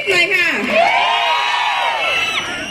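A crowd cheers and screams in high, sustained shrieks and whoops, loud and continuous throughout.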